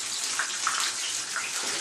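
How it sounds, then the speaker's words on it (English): Hot sauce drains from a container of rainbow trout nuggets in a steady close gush of liquid, continuous and fairly loud with no talk. "Draining all the sauce."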